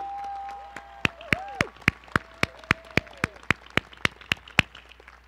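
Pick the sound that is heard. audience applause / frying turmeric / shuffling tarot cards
audience applause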